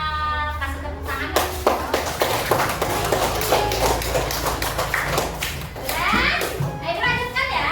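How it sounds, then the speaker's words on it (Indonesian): Children in a primary school classroom clap in a lively burst of rapid, uneven applause, with kids' voices chattering and calling out over and between the claps. "Kasih tepuk tangan"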